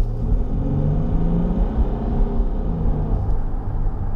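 A 2016 Range Rover TDV6 diesel engine accelerates from a stop with a steady, loud low rumble that holds throughout, heard from inside the vehicle with no talking.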